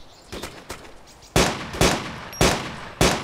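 Semi-automatic gunfire in the game DayZ: a few distant shots, then four loud, sharp reports at roughly half-second spacing, each with a short ringing tail.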